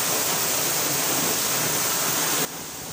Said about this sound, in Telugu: నేను ఉన్న ప్రదేశంలో వాన ఎక్కువగా పడుతూ ఉంటుంది